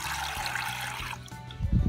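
Water poured into a Finding Dory Whirlin' Waves toy water table, a steady splashing trickle that runs throughout with a brief louder gush near the end.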